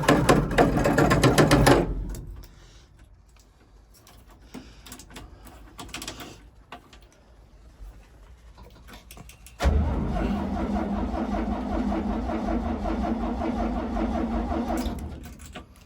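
An engine cranks when the ignition key is turned, whirring loudly for about two seconds. After a long quiet pause with small clicks and knocks, a second steady, rhythmic cranking burst runs for several seconds without catching.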